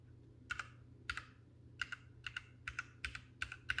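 Key presses on a Ducky Mecha SF compact mechanical keyboard, a series of about a dozen crisp, close clicks grouped in pairs and short bursts at an uneven pace, with no talk over a quiet background.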